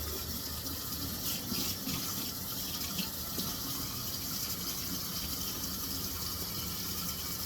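A sink tap runs steadily while hands are washed, a constant gushing stream of water that stays close and fairly loud with no pauses.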